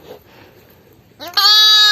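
Newborn female lamb on a farm, bleating once loudly and close with a sharp, sustained cry after a second of quiet shuffling.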